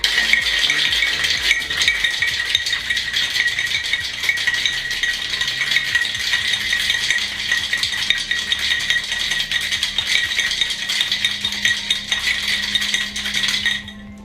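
A cocktail shaker filled with ice is shaken hard and fast for over ten seconds, a loud, steady, dense rattle of ice against metal that stops abruptly at the end.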